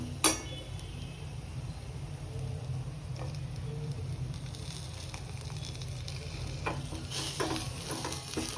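Curry leaves fry in hot oil with a soft, continuous sizzle and crackle, one sharp pop near the start and faint stirring clinks toward the end.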